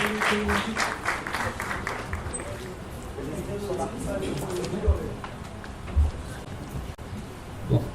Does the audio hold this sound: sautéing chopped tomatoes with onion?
no